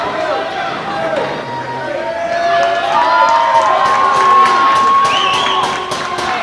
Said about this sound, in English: Crowd behind Dingo here.